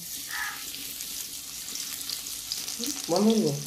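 Steady hiss of crushed garlic frying in hot oil, with a brief clatter and a short voice near the end.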